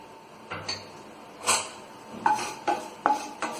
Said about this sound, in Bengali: এবার শুকনো লঙ্কাটা দিয়ে আমি একটু নেড়ে এর মধ্যে তেজপাতাটা দিয়ে দেব।